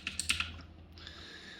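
Function and arrow keys pressed on a budget $31 mechanical keyboard, about five quick close clicky keystrokes in a short burst, then quiet room tone.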